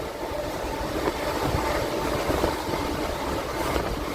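A MEMU passenger train runs along the rails, giving a steady, moderately loud rumble with faint rattling throughout, heard from on board and carrying no voices.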